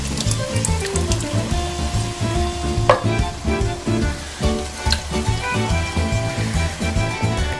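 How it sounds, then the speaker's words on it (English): Peppers and chopped tomato fry in a pan, a steady sizzle with stirring and clattering that runs throughout and rises in a few brief sharp peaks. "Let's get the peppers in there. Smells amazing. Time to get the chopped tomato in."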